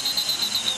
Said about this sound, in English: And a whistle, can hardly hear it.